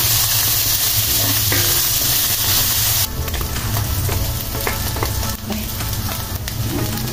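Luncheon meat, a Spam-style loaf, frying in a pan gives a loud, steady sizzle with stirring scrapes, for a kimchi fried rice. The crackle eases slightly partway through and runs on with no talk.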